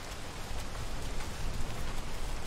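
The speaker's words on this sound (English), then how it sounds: "But unfortunately it is raining" Steady rainfall at night in the dinosaur survival game The Isle, a dense even patter of drops hissing across the ground, close and continuous with no voices.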